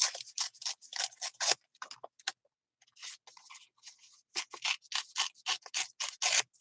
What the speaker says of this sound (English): So I just ripped two sides of that.